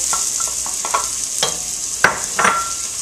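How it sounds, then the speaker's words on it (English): Chopped celery stirred into melted butter in a big Dutch oven on the stove, a bright steady sizzle with several scraping, clinking stirs up close. "We melted the tablespoon of butter, and we're going to put in a half cup of celery"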